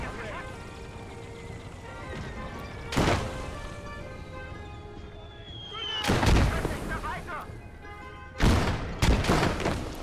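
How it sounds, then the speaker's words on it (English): In a war video game, a player's anti-tank grenades blast against a tank, with three heavy explosive booms spaced apart over sustained rumbling battlefield noise and engine drone, and a voice talking. "I hit it with 2 anti-tank grenades."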